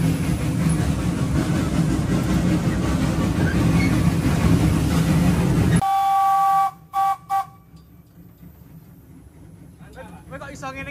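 A rare steam locomotive hauling sugarcane wagons at the Rejosari sugar mill in Magetan runs with a loud, steady rumbling roar that cuts off abruptly partway through, leaving a few brief bursts and quieter mechanical sound.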